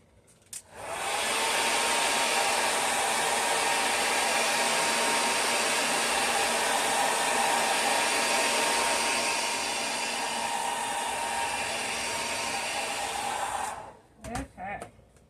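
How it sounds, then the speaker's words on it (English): A hair dryer blows steadily and loudly for about thirteen seconds to dry ink on painted home décor letters, then cuts off, leaving a few faint handling knocks. "we will hit this with my dryer real quick"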